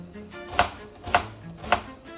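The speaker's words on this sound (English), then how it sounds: "I'm going to chop up the onion, clean up the mushrooms, slice them pretty thin" A knife chops an onion on a cutting board in three crisp, evenly spaced thuds, close and clear against a quiet room.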